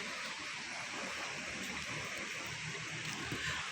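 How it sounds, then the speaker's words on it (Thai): A loud waterfall at Sam Rong Kiat, swollen with heavy rainy-season flow, roars in a constant, dense rush of water that fills the whole clip without a pause. "เสียงน้ำตก"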